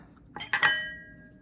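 A measuring spoon clinks against a glass mixing bowl while cocoa powder and baking soda go in, three quick bright taps with a ringing tail fading over about a second.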